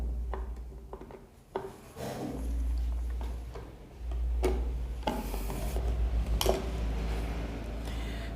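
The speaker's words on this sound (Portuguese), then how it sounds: "Eu estou utilizando aqui uma chave Phillips pequenininha." A small Phillips screwdriver works hardware loose from an MDF craft box: close, intermittent scraping and rubbing with sharp little clicks and knocks over a low background rumble.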